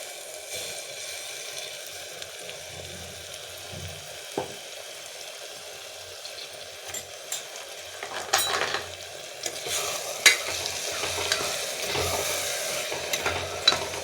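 Tomato paste for tomato rice bath cooking in oil until the oil separates, a faint soft sizzle with occasional spoon scrapes and stirring that grows a little louder toward the end.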